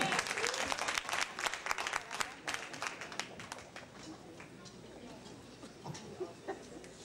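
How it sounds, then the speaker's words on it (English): Hand clapping from a church congregation during a gospel service, dense crisp claps that are loud at first and gradually thin out, with a few voices calling out over them. "Let's give him a hand clap again."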